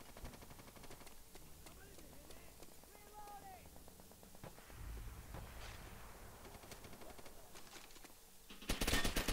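Rapid volleys of player gunfire in the World War II shooter World at War crackle steadily, ending in a louder, denser burst of shots.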